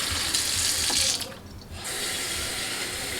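A kitchen tap runs steadily, filling a container with cool water for newly arrived chicks, a close, continuous hiss that briefly dips before resuming at full flow.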